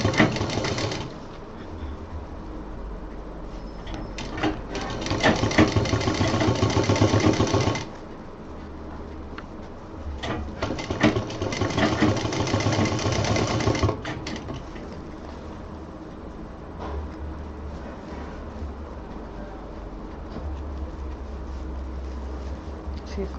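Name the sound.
sewing machine stitching diaper bag fabric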